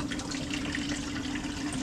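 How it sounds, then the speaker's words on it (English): Steady running liquid, a continuous trickle and gurgle of film developer pouring through a funnel back into a bottle, fairly quiet with no voices. "I need the funnel to pour the contents back into the bottle."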